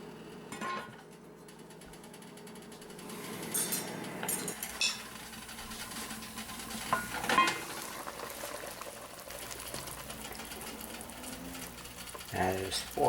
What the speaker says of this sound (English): we add in our clam broth, cover the pot, and cook the potatoes for 20 minutes